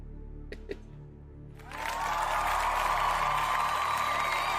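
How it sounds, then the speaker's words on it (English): Applause from a small crowd starts suddenly after a couple of brief knocks and continues steadily, a dense wash of clapping heard from a moderate distance. "Dude, why are you applauding now?"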